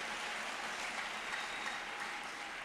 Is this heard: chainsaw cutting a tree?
no